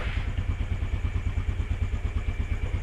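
A Suzuki Skydrive scooter engine runs close by at a steady low putter, with rapid, even exhaust pulses and light mechanical clatter.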